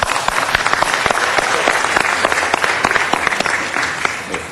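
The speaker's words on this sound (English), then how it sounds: "Round of applause, everybody." Applause rises from the audience at a city council meeting, a dense, steady burst of many hands clapping close and loud, with sharp individual claps standing out throughout.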